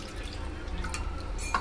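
Half a glass of water is poured over washed raw chicken in a pot, making brief, soft splashing and trickling with a small drip near the end, close and fairly quiet.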